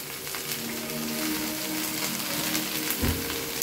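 Amaranth greens frying in a hot pan, a dense steady sizzle with a small thump near the end, close and continuous without speech.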